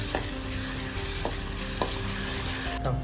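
Onion and ginger-garlic paste fry in a pan for veg biryani, giving a steady close sizzle with a few soft knocks of a spoon stirring, and no talking.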